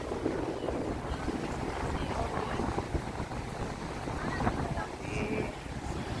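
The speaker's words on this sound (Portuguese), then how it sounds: "E aí o vento tá soprando para cá." Wind blows on the beach at Boa Viagem, a steady broadband rush and rumble buffeting the microphone, with someone talking briefly over it.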